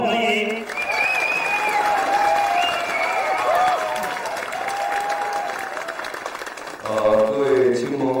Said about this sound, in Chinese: 掌声同样欢迎。